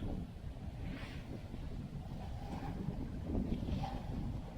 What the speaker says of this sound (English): I'm sure you can hear how freaking windy it is.